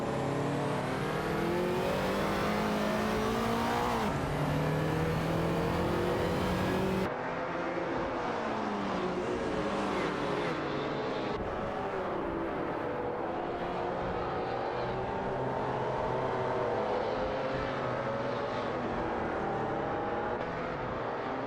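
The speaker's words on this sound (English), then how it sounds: "Racing car dashing away." Race cars in an AI racing video game rev hard and scream past one after another, loud continuous engine whine with shifting pitch sweeps and an abrupt cut partway through, no talking.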